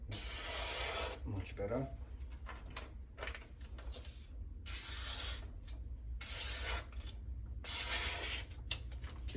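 Edge of a blade being worked on 800 grit abrasive, with repeated scraping, rasping strokes in bursts of a second or so, close and moderately loud, and someone briefly speaking between strokes.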